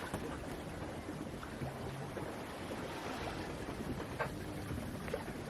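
A sailboat runs under sail with engines off in the Caribbean at 5.5 to 6 knots, giving a faint steady wash of water and wind rushing past the hull, with no voices.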